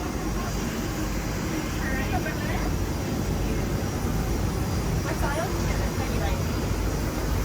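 A large passenger airliner hums steadily near the boarding gate, its engine drone a constant wash of airport noise behind talking voices.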